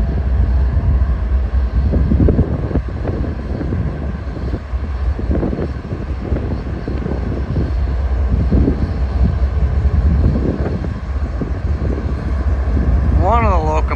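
Locomotive 7491 starting up and settling into a deep, rumbling diesel idle that carries steadily through, with someone talking over it and a brief squeal near the end.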